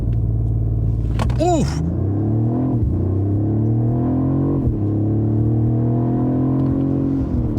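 A 2024 Mercedes-Benz CLE 450 convertible with a 9-speed automatic and 4MATIC all-wheel drive launches hard from brake torque: a loud, close engine drone climbs steadily, and a man lets out a brief exclamation near the start.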